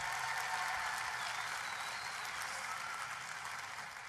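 An audience claps steadily at a crowd event celebrating Iowa counties, a dense, even wash of many hands held for several seconds before tapering slightly at the end.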